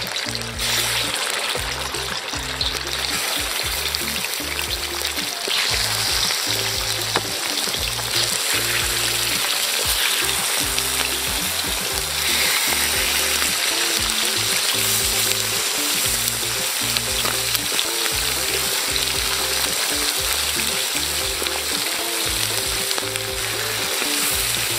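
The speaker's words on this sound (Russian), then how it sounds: "Наливаем растительное масло и начинаем обжаривать курицу." Chicken frying in vegetable oil in a kazan over an outdoor hearth, a loud, steady sizzle and crackle that runs continuously with no talking.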